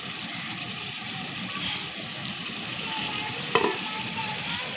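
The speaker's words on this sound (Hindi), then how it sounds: "थोड़ी थोड़ी यखनी शामिल करके मसाले को भून लेंगे" Spiced masala sizzling in a pan as yakhni stock is added a little at a time for fish pulao, a steady close frying hiss with one brief sharp clink near the end.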